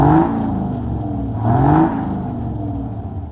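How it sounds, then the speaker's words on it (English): An antique bus engine idles with a low, rough rumble and swells in two brief revs before settling back, close and fairly loud. "Rev it up a little. Just a few times."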